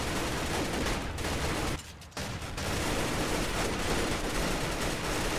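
Dense, rapid gunfire in the Roblox game rBreach, a continuous loud crackling burst that briefly drops out for a moment before resuming at full intensity.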